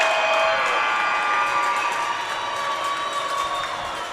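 Crowd at a hockey game between MI Shadow and Detroit Warhawks cheering loudly and steadily, a dense, sustained roar with shouts and whistles that fades slightly toward the end.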